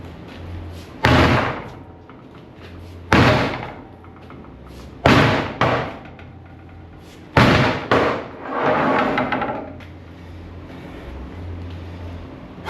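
An 8-pound sledgehammer slams into a composite-toe work boot four times at uneven intervals, deep booming thuds with short rattling tails, close and loud, a low hum between strikes.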